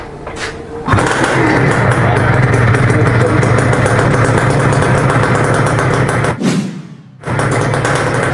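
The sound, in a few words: old motorcycle engine running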